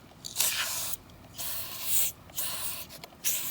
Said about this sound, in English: we're just gonna have to try to spray it down with this carpet cleaning bottle